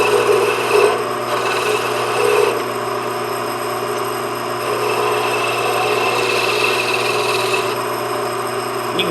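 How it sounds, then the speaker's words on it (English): Skew chisel rounding off a spinning wooden workpiece on a lathe, a steady close scraping hiss over the lathe's motor hum, with brief louder cuts near the start and otherwise continuous. "Then I'll go back to the skew chisel and I'll round that off."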